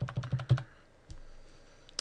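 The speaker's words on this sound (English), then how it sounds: "if you just hit up on the keyboard" A computer keyboard being pressed during desktop work, four quick close key taps in a rapid burst followed by a couple of isolated softer clicks, with no talking.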